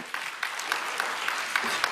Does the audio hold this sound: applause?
yes